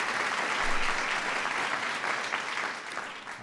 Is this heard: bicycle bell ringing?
no